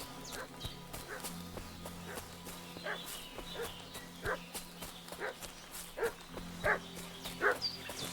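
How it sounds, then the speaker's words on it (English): A dog in the video game Kingdom Come: Deliverance 2 barking repeatedly in an uneven series, moderately distant, over quiet ambient game sounds and light footsteps, with no talk. "What's that dog making such a fuss about?"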